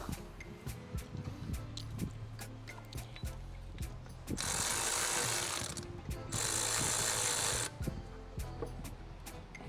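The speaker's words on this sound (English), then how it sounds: "Now we're going to go over this throttle body bolts and make sure they're snug." A ratchet wrench clicks in quick repeated bursts while snugging the throttle body bolts on a 2011 Dodge Journey 2.4L, close and fairly loud, with the pawl's rapid ticking in two longer runs between shorter strokes.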